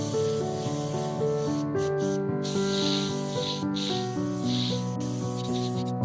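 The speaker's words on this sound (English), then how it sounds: "Here you spray the white only lightly." An airbrush sprays white paint lightly through a stencil onto a classic car artwork, its steady airy hiss running continuously beneath a loud, tonal background layer.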